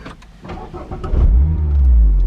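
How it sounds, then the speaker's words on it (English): A 2.0-litre Mazda MX-5 RF engine cranks briefly via push-button start with a few mechanical clicks, then catches and settles into a loud, steady idle close by. "Going to start the car up."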